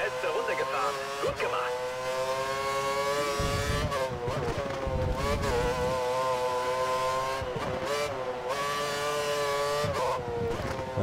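Formula 1 car engine in F1 2013 at Suzuka, a loud high-pitched whine that climbs and drops through gear shifts as the car slows then accelerates hard, with someone talking over it.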